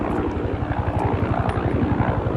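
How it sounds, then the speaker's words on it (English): A helicopter flies overhead with a steady, loud rotor thump and engine roar that fill the whole stretch without letup. "Helicopter."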